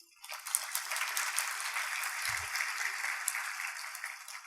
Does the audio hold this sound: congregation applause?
yes